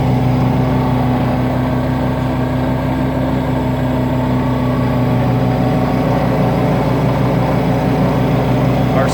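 An Everest HP 650 carpet-cleaning truck-mount engine idles close by with a steady, loud, even drone and low hum that holds unchanged throughout.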